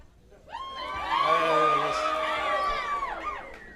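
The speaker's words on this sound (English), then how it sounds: "I just hear cheering." A convention hall crowd at a state FFA gathering in Montana cheers and whoops together, voices swelling into a sustained roar for a few seconds before tapering off.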